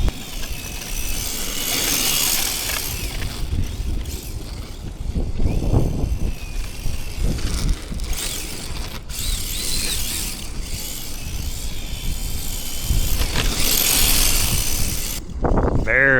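HPI RC car driving at low throttle, sliding through turns, its motor and drivetrain whirring and ratcheting in uneven bursts, fairly loud and close.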